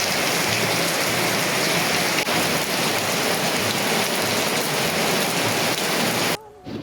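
Heavy rain falls outside an event venue as a loud, continuous hiss of drops, steady for several seconds before cutting off abruptly near the end.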